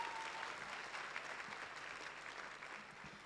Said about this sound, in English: Let's give them another collective round of applause.